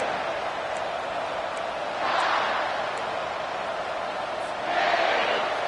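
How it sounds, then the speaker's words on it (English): A football stadium crowd roaring as the defense takes the field, a steady dense wash of noise that swells twice, heard at a distance under the broadcast. "listen to the roar of this crowd"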